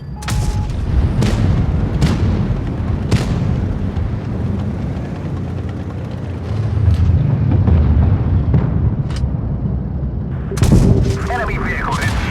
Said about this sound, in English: Enemy vehicle destroyed.